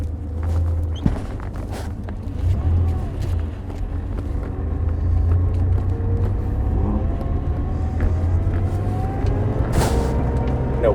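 A classic Porsche 911 Carrera without power steering drives along with a steady, fairly loud engine drone heard from inside the cabin. The tone rises gently as the car moves off, with one brief sharp knock partway through.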